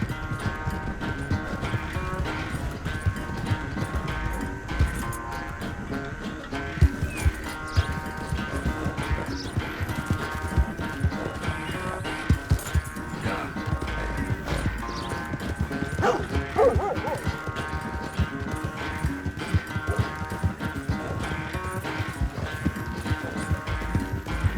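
A horse gallops in a race in Red Dead Redemption 2, with fast, steady hoofbeats running continuously over a dense, loud game mix, while a dog barks and a horse whinnies.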